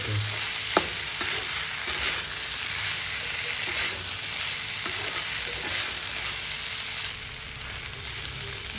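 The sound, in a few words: sesame and peas frying in a pan for achar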